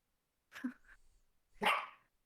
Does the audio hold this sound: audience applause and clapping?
no